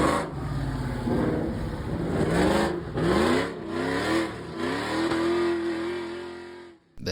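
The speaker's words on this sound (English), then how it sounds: "the roar of engines got us out and about" Several car engines roar and rev loudly and continuously near a camp in Cape Town, South Africa, with rising and falling pitch sweeps as they accelerate, then cut off abruptly at the end.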